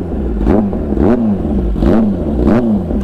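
A Kawasaki ZX-10R motorcycle fitted with an Austin Racing exhaust revs up close and loud, with three or four sharp throttle blips rising and dropping over a rough, rumbling idle.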